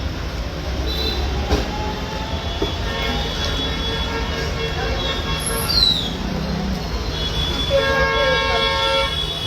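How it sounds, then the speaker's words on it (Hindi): A vehicle horn sounds on a road beside a roadside shop, giving repeated tonal honks against steady traffic noise. Voices murmur in the background. "उधर गाड़ी का हॉर्न सुनाई दे रहा है।"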